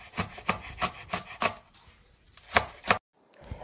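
A knife chops fresh herbs and scallion greens finely on a wooden board in quick, crisp strokes, a run of about five, then a pause, then two more, with no talking.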